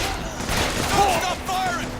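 Rapid video-game gunfire in Bioshock Infinite, a dense fusillade of close, loud shots lasting about two seconds.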